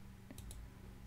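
A few quick mouse clicks, crisp and close, spaced irregularly against a quiet background.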